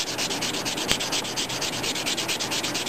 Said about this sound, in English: So you will be sanding this